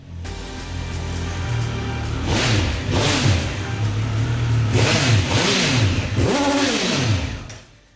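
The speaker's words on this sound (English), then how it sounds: "we've got even more of that triple bark from the 1200 RS" A Triumph Speed Triple 1200 RS three-cylinder motorcycle engine revs repeatedly up and down, its rasping bark rising and falling in several sharp bursts, loud and close.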